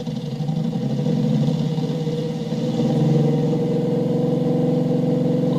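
A low, rumbling boxer-four car engine in a video game drones steadily, then rises slightly in pitch and loudness as it revs up, with a rough, tractor-like tone.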